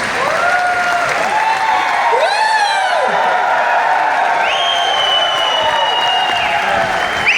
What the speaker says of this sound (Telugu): గ్రేట్ రౌండ్ ఆఫ్ అప్లాజ్ ఇవ్వచ్చు